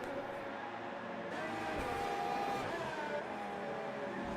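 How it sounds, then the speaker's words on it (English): A Formula 1 car engine in a racing video game at Monaco roars steadily and loudly, revving with a continuous high whine throughout. "But listen to that engine of Hypers when he gets on the gas."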